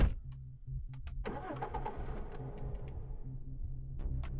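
A hatchback car's engine cranks and catches in the survival game Cataclysm: DDA, then settles into a steady mid-pitched idle with a few sharp clicks on top, heard alone without talk.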